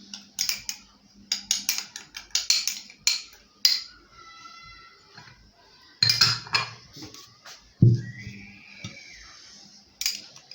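A metal spoon clinks against a bowl or jar as tablespoons of dried herbs are scooped into a homemade remedy mix, with several bright, close, irregular taps and scrapes separated by quiet gaps.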